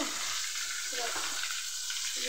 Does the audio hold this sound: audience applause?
no